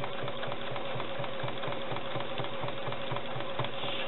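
A sewing machine running steadily while free-motion stipple quilting an art quilt: a fast, even mechanical chatter of needle strokes with a low motor hum, close and uninterrupted.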